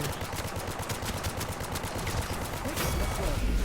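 Rapid bursts of gunfire from the hero shooter Paladins fill a capture-point match, dense and continuous over busy in-game noise, with a brief voice faintly mixed in.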